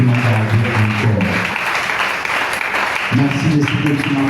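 A church congregation applauds and cheers during a Sunday service, a broad, continuous wash of clapping from a crowd, while a voice speaks over it at the start and end of the burst.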